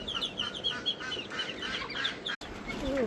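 Ducks let out of a cage in a village yard on a rainy morning quack in quick, overlapping bursts at close range, briefly interrupted by a short dropout, with other fowl calls mixed in and no voices.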